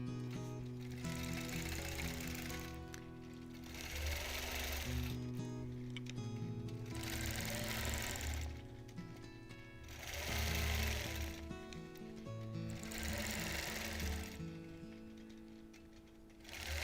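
A longarm quilting machine stitching a Double Wedding Ring quilt topper hums and clatters steadily up close, surging and easing in repeated waves as the stitching speed changes.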